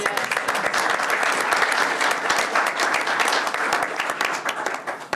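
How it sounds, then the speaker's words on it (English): A room full of people at a school district board meeting applauding, dense steady clapping that holds for several seconds then begins to fade. "I think that deserves a round of applause"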